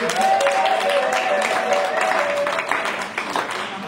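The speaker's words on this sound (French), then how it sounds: "Si vous pouvez encore applaudir pour maman Bideli." A gathering at a Congolese mothers' association event in Belgium claps for an honoree, a moderately loud patter of applause with a sustained tone, likely music, running underneath and faint voices mixed in.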